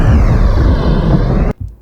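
Crackly fire texture synthesized from white noise, a dense continuous hiss with fine crackling grain that holds steady, then cuts off abruptly near the end, leaving a brief low rumble.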